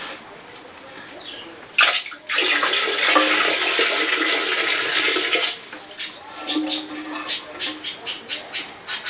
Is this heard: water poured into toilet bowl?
yes